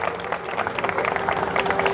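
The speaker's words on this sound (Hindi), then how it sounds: "उन लोग के लिए आप जोर से भी एक ताली बजाइए" Audience at an evening Hindi Hari-katha gathering in Delhi breaks into dense applause, a steady wash of many hands clapping that builds slightly over two seconds.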